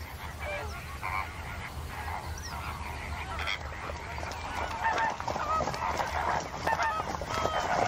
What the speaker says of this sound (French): regarder les flamants roses patauger sur l'étang